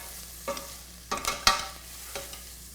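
Pancetta sizzles quietly in a pan while it is stirred, with a few sharp scraping bursts and spatters rising above a low, steady frying hiss.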